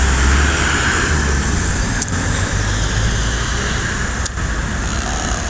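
Laju Prima intercity bus passing close on a road at night, a loud, steady roar of engine and tyre noise that fills the whole stretch, with no speech over it.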